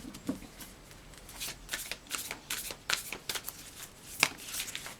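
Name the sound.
shuffling tarot cards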